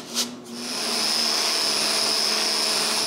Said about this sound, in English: I need to sand this to this thickness.